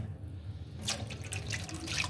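Taro root is washed under running tap water. After a quiet start the water begins to splash and patter, close by and fairly soft, and continues to the end with no talking.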